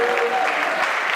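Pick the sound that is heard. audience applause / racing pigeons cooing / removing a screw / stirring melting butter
audience applause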